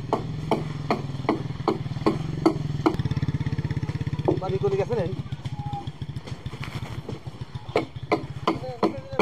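Workers hand-build a wooden dinghy boat, with hammer blows ringing out in a steady, rapid rhythm at close range, alongside a low engine drone and occasional voices.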